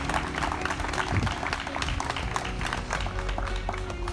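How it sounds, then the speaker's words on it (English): An audience at a car show claps in applause, a dense steady patter of many hands that continues evenly throughout at moderate volume, without a break. "Let's give them all a big round of applause."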